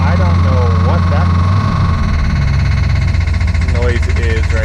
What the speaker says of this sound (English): There was a funky knocking noise when we fired that bad boy up